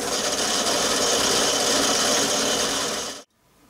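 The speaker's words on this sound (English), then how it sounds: "Start to bore the hole out now, closer to the finished size." A boring tool bores out a hole in metal on a lathe during a live steam model build, a loud, steady, close grinding hiss that cuts off abruptly near the end.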